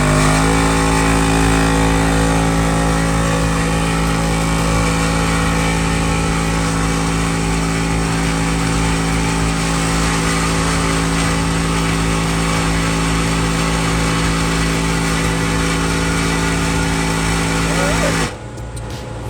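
A Gobege 12V portable air compressor inflating a car tire runs with a loud, steady motor drone and pulsing hum, close and continuous for about eighteen seconds before it cuts off.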